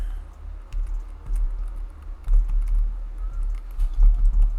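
Rapid, uneven clicking of keys on a computer keyboard, close and fairly soft, in bursts of quick keystrokes with brief pauses.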